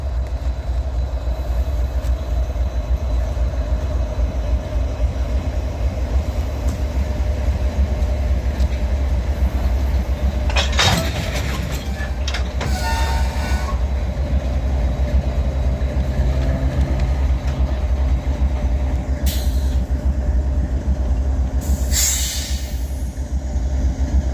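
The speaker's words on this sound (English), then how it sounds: "He's got 3 locomotives on there." Freight train with three locomotives labouring up a grade, a loud continuous diesel rumble with rail noise and steady wheel clatter, broken by a few brief squeals and hissing bursts.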